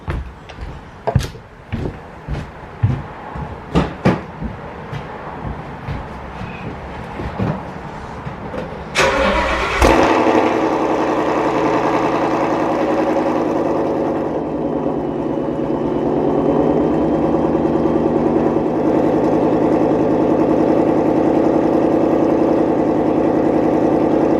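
Supercharged 2020 Ford Mustang Shelby GT500 cold start: a run of sharp clicks and knocks, then the engine fires loudly and settles into a steady, close, throaty idle that continues to the end.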